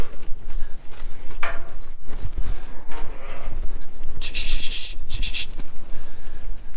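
Sheep and lambs on a farm being moved through a gate, with loud, close bleats scattered across the stretch amid shuffling and movement noise.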